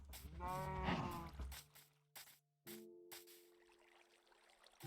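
A Minecraft Bedrock cow being led on a lead gives a few low, drawn-out moos, one long call near the start and shorter ones later, with nothing else around them.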